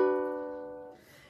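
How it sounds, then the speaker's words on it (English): A ukulele rings out a single four-finger strummed chord, bright and close, decaying smoothly over about a second with no voices. "you're going to need to use 4 of your fingers and create a little schwang sound like this."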